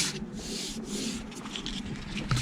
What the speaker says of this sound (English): Light touch on the sandpaper.